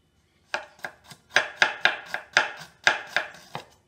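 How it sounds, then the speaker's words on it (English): Fresh ginger being chopped with a knife on a cutting board, about a dozen crisp, close knocks in an uneven rhythm, heard alone with no talk. "I'm going to chop the ginger about half the size of your thumb."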